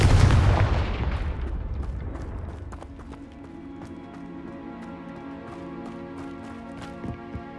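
Blasting spell explosion in the Hogwarts Legacy video game, a loud booming burst at the start that fades into a ringing tail with game music and scattered clatter beneath.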